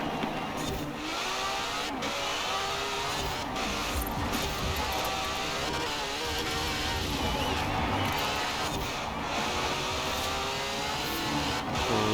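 A car in the racing game Forza Horizon 4 accelerating hard toward top speed, a steady, continuous engine whine climbing through gears with no pauses, with faint speech underneath.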